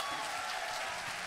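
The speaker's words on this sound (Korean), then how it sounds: "성공한 기도학생에게 더 뜨거운 박수 부탁드립니다." Audience applause at a Christmas Eve celebration, a soft, even patter of many hands clapping heard from some distance and sustained throughout.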